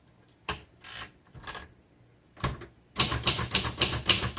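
Bursts of rapid mechanical key strikes from a 1963 Royal Safari manual typewriter, close and crisp, with pauses between flurries and a faster, denser run of clacks near the end.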